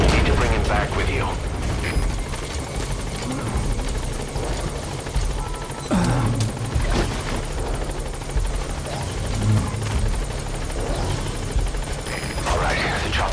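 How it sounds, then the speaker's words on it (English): Helicopter rotor thumping steadily as the chopper touches down at a landing zone in Metal Gear Solid V, loud and continuous throughout with a constant low mechanical whir and no break. "Alright, the chopper's touching down."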